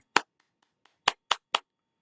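A lecture audience clapping, four crisp claps in all, one alone and then three in quick even succession, close and dry in a quiet room with no voices.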